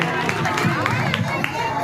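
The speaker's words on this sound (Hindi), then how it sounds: "जोरदार तालियां बजती रहे" An audience claps at a stage event, a loose, steady patter of hands mixed with crowd chatter and speech close by.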